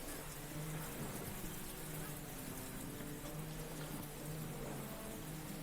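Steady rain falling as a dense, even hiss that continues unbroken throughout, with a faint low hum underneath.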